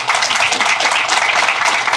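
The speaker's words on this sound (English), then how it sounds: "Please, a warm round of applause for Adam Waterous." A dense, steady round of applause from an audience, loud and sustained for a couple of seconds with no break.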